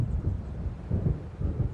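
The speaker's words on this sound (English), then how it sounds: "It seems there's a storm coming." In the video game Alan Wake, an approaching thunderstorm rumbles low, with deep rolling swells of thunder rising and fading in slow pulses, fairly close, with no voices.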